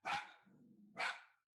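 Two sharp barks from a dog, close and fairly loud, separated by a low growl, then silence.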